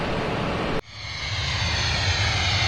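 Pan Am's Clipper Victor airliner landing at Los Rodeos Airport, Tenerife: a loud, rushing roar cuts off abruptly, then a steady engine whine with sustained tones builds back up, close and unbroken, with no voices.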